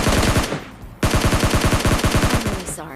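Rapid automatic gunfire in a shooting video game, two sustained bursts of evenly spaced shots separated by a short pause, loud and close, with a brief high-pitched effect at the end.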